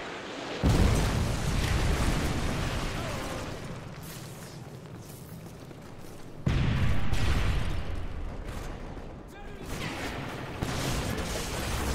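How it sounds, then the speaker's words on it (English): A missile strike in Call of Duty MW3 lands as two heavy booming explosions, each rumbling and slowly fading, with scattered crackling debris and battle noise between them. "Friendly missile inbound."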